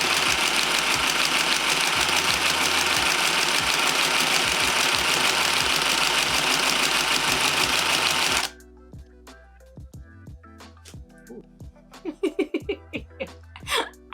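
A handheld sewing machine stitches t-shirt fabric, buzzing loudly and steadily with a fast rhythmic pulse for about eight seconds. It then stops, leaving scattered clicks and handling sounds.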